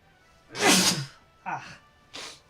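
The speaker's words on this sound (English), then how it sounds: "Oh, I gotta sneeze." A person sneezes once loudly and close, then gives two shorter breathy follow-up sounds.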